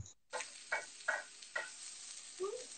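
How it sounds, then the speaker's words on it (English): Mushrooms sizzle steadily in a hot pan, with a few louder crackling bursts from stirring; no one speaks. "So you can hear them sizzling."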